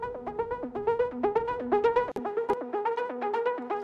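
A dry synth arpeggio steps rapidly through a repeating note pattern in even rhythm, clear and close, with a brief glitchy dropout midway and no voices.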